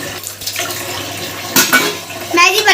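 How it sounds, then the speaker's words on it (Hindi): Dishes being washed under a running tap in a village home, steady water flow with clattering plates and utensils knocking in the sink, close and fairly loud. "मैं जी बर्तन धो रही हूँ, क्योंकि बर्तन बहुत लिबड़े हुए थे।"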